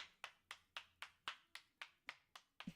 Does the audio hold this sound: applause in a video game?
yes